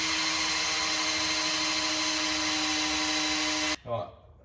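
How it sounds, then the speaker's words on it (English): A power drill whirs loudly and steadily for several seconds turning over a 10-liter supercharged big-block engine in a monster truck, then cuts off abruptly, followed by a short mechanical clunk and rattle. "Okay, so I'm on the drill."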